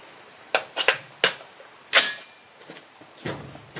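Several sharp .223 Remington rifle shots from an MPR Mini, fired singly at uneven intervals, each a brief loud crack, with a steady high whine running underneath.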